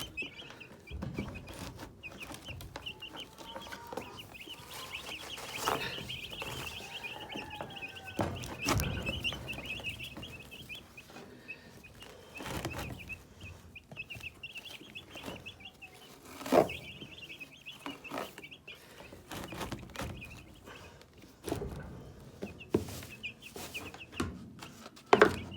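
Chickens cluck on and off with soft, scattered calls and occasional louder squawks, heard fairly close amid rustling and handling noises, with a steady high chirping sound running through much of it.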